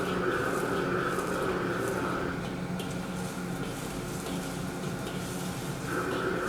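Separated egg whites fry in a seasoned wok, making a steady low sizzle and soft crackle with a faint tonal hum; a voice talks over part of it.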